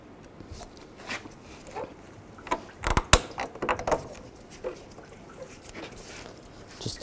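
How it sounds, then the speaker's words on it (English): Hose clamp pliers releasing a radiator hose clamp on a 2010-2017 Chevrolet Equinox during radiator fan replacement: scattered metallic clicks and a brief cluster of sharp snaps and rattles near the middle, fairly quiet, no voices. "Take this hose clamp off, just use some hose clamp pliers."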